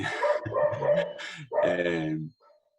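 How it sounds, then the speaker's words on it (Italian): A dog barks in a library setting, a few close, sharp barks in quick succession, the last one trailing off briefly, with no talk over them. "Ecco, è arrivato un cane."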